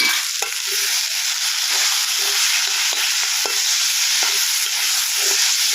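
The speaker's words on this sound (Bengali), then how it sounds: "সেটা একটু নাড়াচাড়া করে নেব" Khesari greens curry with cumin powder is stirred in a hot pan, a loud continuous sizzle punctuated by repeated scraping strokes of a spatula at a steady rhythm.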